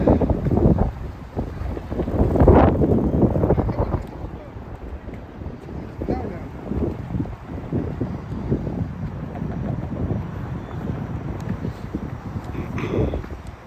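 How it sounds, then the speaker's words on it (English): Wind gusts buffet a microphone on a city street near Queen's Park, a steady low rumble with a stronger surge early on, mixed with passing traffic noise throughout. "Yeah, that wind's blowing again."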